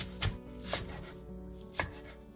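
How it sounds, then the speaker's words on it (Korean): A kitchen knife chops crown daisy (ssukgat) on a cutting board into 3–4 cm lengths, with three crisp, separate thuds spaced unevenly apart while a quiet background hum runs underneath. "쑥갓 두 줌을 3에서 4cm 정도 길이로 잘라주세요"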